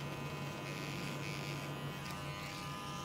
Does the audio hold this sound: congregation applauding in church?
no